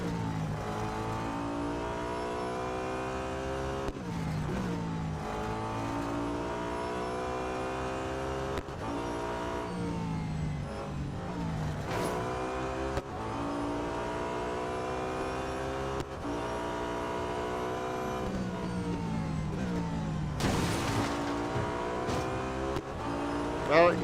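A 2012 Audi A5 DTM race car engine in the Real Racing 3 video game screams continuously through the gears, rising through repeated revving climbs with abrupt shifts and brief dips, loud and close throughout.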